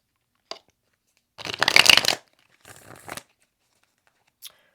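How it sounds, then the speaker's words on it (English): Tarot cards are shuffled close up: a short flick, then a loud riffling burst, a softer second shuffle, and a final light snap, with silence between. "let's do one more shuffle"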